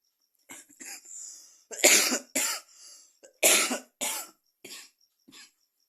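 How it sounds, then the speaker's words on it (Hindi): A fit of repeated coughing, about eight harsh bursts in uneven succession, loud and close with brief silences between. "थोड़ी सी खांसी आ रही है।"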